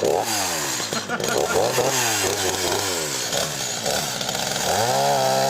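A chainsaw cutting firewood roars loud and close, its engine revving up and down repeatedly as the throttle is opened to full and eased off, with no talk over it.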